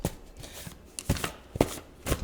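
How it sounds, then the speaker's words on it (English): Cards are shuffled a few times, crisp riffling bursts close by separated by short pauses, with no talking. "Yeah, couple shuffles."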